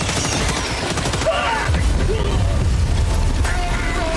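Rapid automatic gunfire from a seeker enemy in a tower-activation video game, like an assault rifle, sounding in dense bursts over a steady game soundscape for several seconds.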